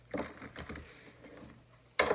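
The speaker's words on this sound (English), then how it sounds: "let's shuffle some more" A deck of tarot cards is shuffled in quick papery riffles and taps, with a louder burst of shuffling at the end; no one speaks.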